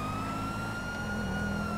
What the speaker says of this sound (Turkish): Sirenleri yakmak zorundayım arkadaşlar.